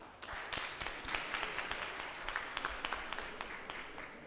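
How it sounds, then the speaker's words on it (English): A seminar audience at a land surveying division's annual meeting gives a round of applause for the committee members, with steady clapping throughout, fairly faint and distant, and a few louder individual claps near the microphone. "So please, a round of applause for our committee members."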